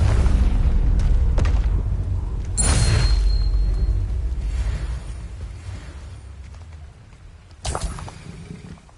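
A Confringo fire spell in Hogwarts Legacy bursts with a loud, deep boom near 2.7 seconds and trails off in a rumbling tail, with a second sharp blast hitting near the end over continuous low game ambience.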